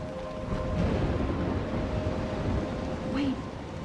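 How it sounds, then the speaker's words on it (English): A thunderstorm in the game Life Is Strange, with steady heavy rain hissing throughout and rolling thunder rumbling underneath, loud and enveloping. "I'm trapped in a storm?"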